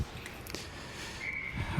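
A referee's whistle at an ice hockey game, Pens Elite vs. Minutemen, gives one short, steady blast partway through, heard over a constant arena din.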